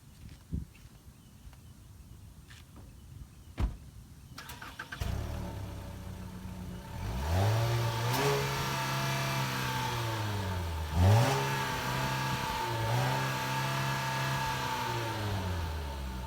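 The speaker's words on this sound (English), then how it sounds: "let's see how that stock exhaust sounds" A 2019 or 2020 Ford Fusion with its stock exhaust: a few clicks, then the engine starts and is revved repeatedly, its pitch climbing and falling in several swells before holding a steady, fairly high rev.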